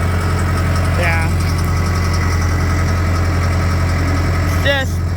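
A 6430 tractor engine runs at a steady idle during cleaning of a heifer barn, a constant low drone with two brief rising squeaks over it.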